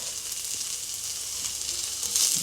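Garlic sizzles steadily in a hot wok, a continuous close frying hiss that swells slightly louder near the end, with no talking.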